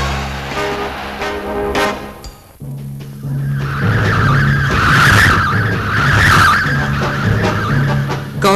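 Tires squeal and skid as a car performs stunt driving in an acrobatics demonstration from 1964, a long continuous screech over engine noise following a brief engine passage and a short break.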